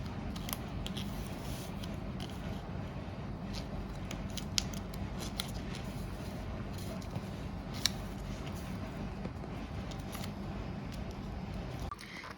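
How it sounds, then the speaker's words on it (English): Scissors snipping through paper while a homemade Cluedo-style detective board game is assembled, a steady run of close, crisp cuts for about twelve seconds with no talking. "we have this paper and Saljooq has cut it exactly right"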